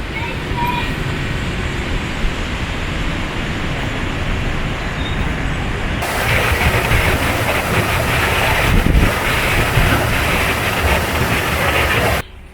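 Strong wind buffets the microphone at the Anderton Boat Lift, a continuous low roar that swells noticeably louder in the second half, with a heavy gust thump before cutting off.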